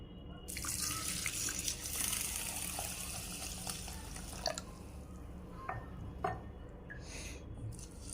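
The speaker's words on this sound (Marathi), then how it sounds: "आता हे सगळं आपण स्वच्छ पाणी निघेपर्यंत दोन ते तीन वेळा छान असं धुवून घ्यायचं" Running water splashes steadily into a sink while rice, lentils and fenugreek seeds are swished and rinsed, with a few small clinks and drips near the end.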